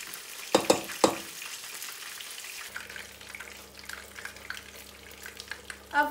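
Crushed ingredients frying in a pan for turmeric yams with tilapia: a few sharp clinks of stirring open the sound, followed by a soft continuous sizzle over a low steady hum, with occasional scrapes.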